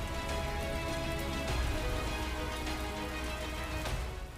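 Rain showers fall in Vadodara, Gujarat, a dense, even patter and hiss that holds steady throughout with no voices.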